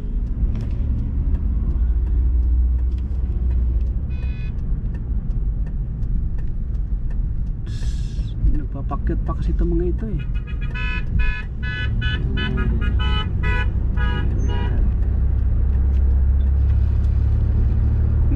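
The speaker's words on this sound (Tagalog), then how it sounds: "Traffic sila ngayon. Dami talaga nito." Steady rumble of road traffic, with cars passing close by and a few short horn toots, loud and continuous; a voice speaks briefly over it.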